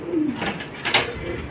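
Racing pigeons cooing at a loft during a derby bird arrival, a close soft coo followed by brief flutters and calls, clear over a quiet background.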